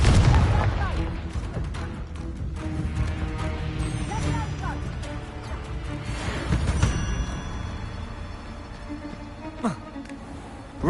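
In Hogwarts Legacy, a Confringo explosion spell bursts amid rumbling booms and clashing combat effects, with a louder thump near the end and voices talking over the fight.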